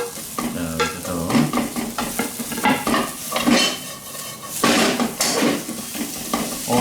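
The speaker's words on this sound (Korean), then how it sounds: "이제 더덕이 어느 정도 볶아지면 이제 나머지 야채를 넣고 그냥 이렇게 해서 제가 볶겠습니다" Deodeok and vegetables are stir-fried in a pot without oil for a bulgogi dish, with repeated scraping stir strokes and clinks of a utensil against the pot over a soft sizzle.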